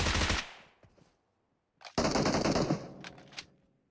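Gunfire in the mobile battle royale game PUBG Mobile during a global championship match: a short rapid burst, a pause, then a longer loud volley of automatic shots with echoing tails.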